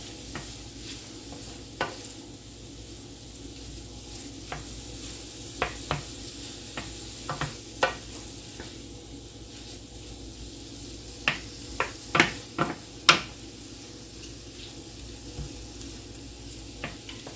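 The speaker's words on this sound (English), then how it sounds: "You're going to kind of stir it in." Cooked leftover London broil stirred into softening vegetables in a pan for Philly cheese steaks, a low steady sizzle with intermittent scraping clicks of the utensil, close and fairly quiet, no talking.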